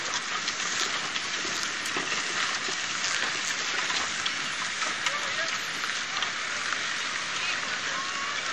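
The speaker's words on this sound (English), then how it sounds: "It's starting to rain." Steady rain hisses across an outdoor street during an oxcart parade in Costa Rica, a dense, even wash of drops lasting throughout, with faint voices and crowd sounds underneath.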